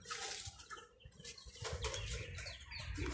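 Chickens cluck and flap their wings amid busy, rustling outdoor noise, fairly close and continuous throughout.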